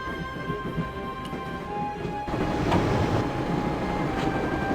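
Train running in the Broken Sword video game, a continuous rumbling rail noise with a tonal hum, growing louder and busier partway through, with no talk.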